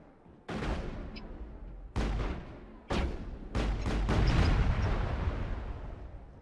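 Gunshots in the Mass Effect video game: four heavy, booming blasts a second or so apart, each leaving a long rumbling tail, with the last merging into a sustained roar.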